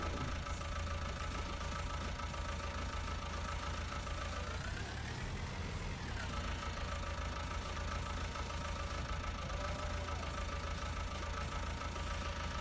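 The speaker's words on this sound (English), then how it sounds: "And this tractor does sound very nice as well." Tractor engine idling in the Farming Simulator video game on the Geiselsberg map, a steady mid-to-low rumble that runs the whole time with a brief swell in revving partway through, and no talking over it.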